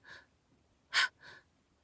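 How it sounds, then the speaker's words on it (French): Three quick breath sounds made as a singing warm-up exercise: a soft huff, then a loud sharp surprised gasp, then another softer breath, each short and close, with silence between. "cette manière de souffler d'un coup et prendre sa respiration sur la surprise"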